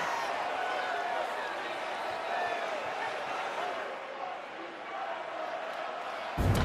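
A loud stadium crowd roars steadily throughout at a 2021 Clemson vs. Pitt college football game, a dense sustained wall of noise with a sharp burst at the very end; broadcast commentary sits underneath.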